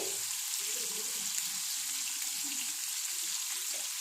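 Spices sizzling in a hot pan of oil just after chili powder goes in, a steady close crackling fry with faint stirring scrapes, continuous and even with no talking.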